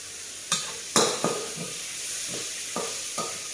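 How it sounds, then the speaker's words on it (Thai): Pork and garlic are stir-fried for dry suki: a gentle, continuous sizzle with a few sharp spatula knocks and scrapes against the pan at irregular intervals. "ผัดให้หมูสุกเลย จะผัดให้หมูสุกเลยนะคะ"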